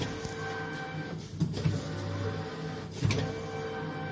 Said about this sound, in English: now the coder is running,